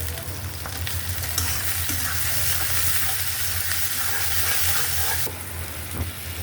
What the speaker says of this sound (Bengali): হালকা একটু তেলের উপর নাড়াচাড়া দিয়ে দিই